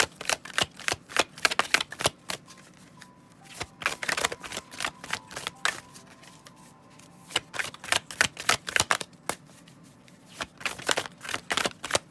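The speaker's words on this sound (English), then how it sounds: "I'm going to shuffle again." A deck of cards is riffled and shuffled repeatedly, sharp rapid flutters in bursts with short pauses, close and fairly quiet.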